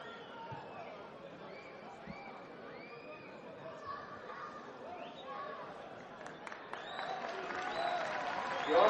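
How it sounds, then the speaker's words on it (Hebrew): A crowd at a football match claps and chatters in the stands, fairly distant and light at first, then swelling into louder applause toward the end. "כפיים עכו!"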